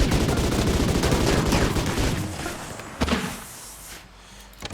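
Rapid bursts of gunfire from a RimWorld colony battle, dense and continuous for about three seconds before thinning into scattered single shots and thuds.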